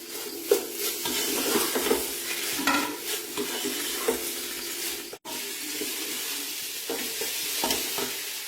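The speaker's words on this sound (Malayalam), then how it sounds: "നന്നായിട്ട് ഇളക്കി കൊടുക്കും." Soya chunk fry is stirred in a pan, with repeated scraping and clattering strokes of a spoon over a soft background sizzle and a brief pause midway.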